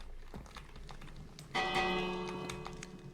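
Bell struck in the modded Minecraft game FTB StoneBlock 3, a single bright ringing clang that lingers and slowly fades, preceded by light clicking taps.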